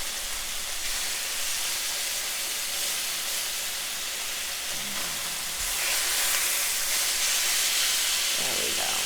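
Chicken pieces sizzling and hissing steadily in a hot pan as they are turned, with a constant broadband fry noise and faint scraping near the end.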